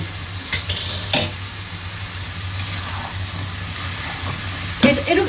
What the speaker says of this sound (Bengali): এখন আমি বুটটা দিয়ে দিব। এখানে বুটটা ভালো করে কষানো হলে